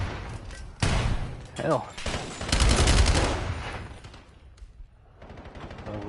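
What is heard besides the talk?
SMG gunfire in video game Black Ops 7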